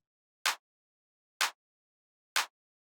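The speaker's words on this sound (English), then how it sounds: "It's just this kind of like clean clap sample." A clean, short clap sample from a tech house groove hits three times at an even pace, each hit crisp and tight and followed by silence.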